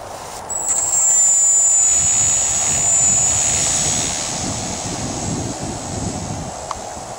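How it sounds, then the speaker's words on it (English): A radio-controlled Piper Cub model airplane flies overhead on a swapped propeller below full throttle, its high, steady propeller whine strong for the first few seconds and then fading into a broad, airy drone as it moves off. "The plane flew very good with that prop, and I wasn't going at full throttle"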